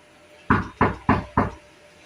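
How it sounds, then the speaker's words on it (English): Four evenly spaced knocks on a cottage door, close and solid, each a sharp hollow rap with short decay. "he reached the push cottage with flower and knocked at the door of the cottage"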